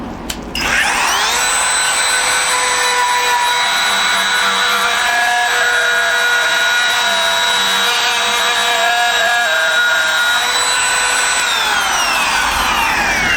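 A Kobalt cordless trim router carves freehand into redwood, spinning up and holding a loud, steady high-pitched whine with grinding cutter noise for over ten seconds before winding down.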